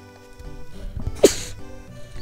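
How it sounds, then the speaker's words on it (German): One sudden close sneeze rises out of faint background game music and sound effects, short and sharp, then the soft music carries on. "Entschuldigt, ich musste gerade niesen."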